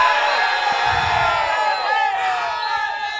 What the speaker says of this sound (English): Cheer for Karthik.